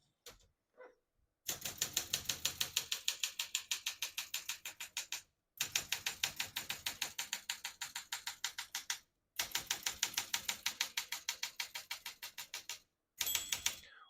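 Rapid bursts of keystrokes on a 1966 Olympia SM9 manual portable typewriter in three long runs separated by short pauses, with a bright margin bell ding near the end.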